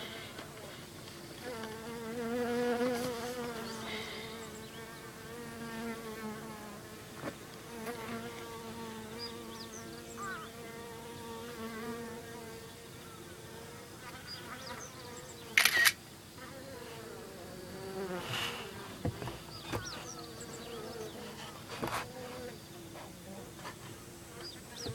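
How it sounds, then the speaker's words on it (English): Japanese honey bees cluster together at a bee sanctuary, their buzzing forming a soft, steady hum with wavering tones from nearby wings. A single sharp click cuts in once partway through. "here are the bees at the cow bee sanctuary, and they're all nestled up under"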